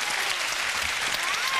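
A television studio audience bursts into brief, steady applause, a dense wash of clapping heard up close without pause.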